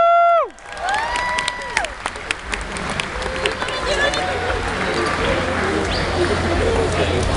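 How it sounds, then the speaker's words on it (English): Spectators at a Formula 1 autograph session at Circuit of the Americas break into applause and cheering after a short electronic chime, the clapping and scattered whoops carrying on loudly amid crowd noise and voices. "Nice round of applause for these guys."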